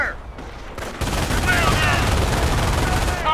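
Dense battlefield gunfire from Company of Heroes during a Normandy beach assault, rapid overlapping machine gun and rifle bursts, loud and continuous, with a shouted voice briefly over the shooting.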